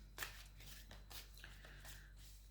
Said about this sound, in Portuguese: Baralhar um pouco mais.